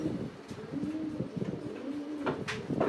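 A Pakistani army pigeon, large like a grizzle, coos at a pigeon farm: low, throaty rolling coos repeated at close range, fairly faint, with no talking.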